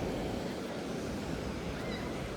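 Choppy sea waves roll onto the beach at Nerja, Spain, as a continuous loud rush of surf mixed with gusting wind buffeting the microphone.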